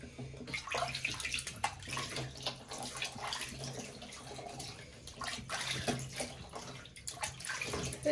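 Water sloshes and splashes softly in a small tub during a newborn's bath, with irregular trickles and splashes over a low room hum, fairly faint and without clear speech.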